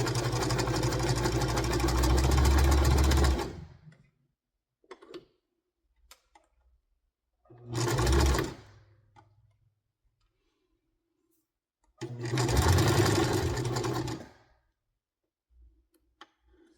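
A sewing machine stitches thrifted dress pants in three separate bursts of steady, close mechanical whirring, with quiet ticks and handling sounds in the pauses between.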